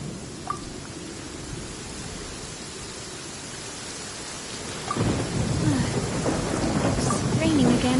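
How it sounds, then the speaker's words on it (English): Steady rain falls in Genshin Impact gameplay, a constant hiss with low rolling thunder that swells and grows louder about midway, while faint game sounds sit underneath. "It's raining again."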